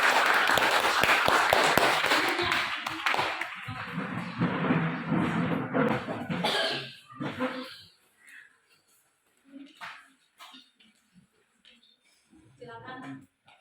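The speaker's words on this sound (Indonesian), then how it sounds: "kita beri tepuk tangan" A class claps after a group presentation, a burst of scattered applause from many hands at moderate volume that thins into a few taps and quiet voices talking.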